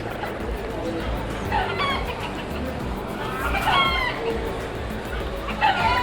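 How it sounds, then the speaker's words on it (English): Several roosters crow and chickens cluck outdoors in Key West near Fort Zachary Taylor, amid steady background noise, with a few loud calls standing out over a busy ambient hum. "There are the chickens in there,"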